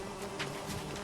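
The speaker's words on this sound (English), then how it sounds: "Ow, ow, I'm being stung by bees." Bees swarm from a beehive in The Witcher 3: Wild Hunt, a continuous close buzzing hum with individual insects briefly flying past, no talking over it.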